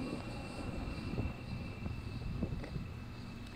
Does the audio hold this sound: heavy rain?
no